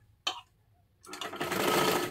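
A sewing machine stitching a princess blouse: a short click, then the motor whirs up into a steady run of stitching that holds loud to the end.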